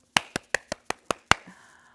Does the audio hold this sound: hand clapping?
yes